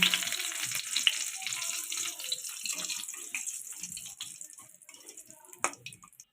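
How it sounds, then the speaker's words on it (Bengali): Whole spices crackle and fry in hot oil for a Bengali doi katla curry, a steady close sizzle with scattered pops that eases toward the end, no voices present. "তেল গরম হয়ে গেছে ফোড়নগুলো দিয়ে দিলাম"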